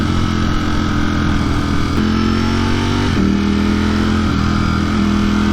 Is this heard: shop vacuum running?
no